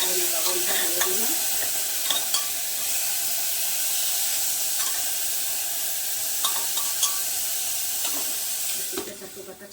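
Chopped onion and tomato sizzle with salt in a hot pan, a dense continuous crackle with occasional spoon scrapes and stirs, steady and close before fading at the end.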